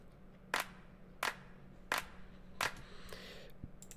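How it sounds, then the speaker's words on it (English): Two layered clap samples from a music track hit one at a time in an even rhythm, five sharp, crisp snaps about 0.7 seconds apart, alternating slightly between two clap sounds over a faint low background. "here's the clap. I've got two different claps there, slightly different, so sort of like a seesaw effect between each one"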